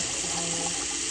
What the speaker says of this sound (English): there certainly is evidence of water running into the toilet, probably excessively